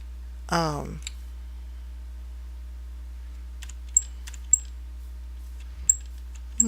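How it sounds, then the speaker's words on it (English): A keyboard space bar gives one squeaky, descending creak, followed by a few sparse, crisp key clicks in a quiet room. "You hear that squeaky? That's my key, the space bar."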